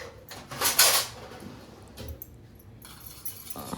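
Spiced mixture being mixed by hand on a plate, with clinking and scraping against the plate in a burst near the start and lighter scuffs later, close and fairly quiet, no talking.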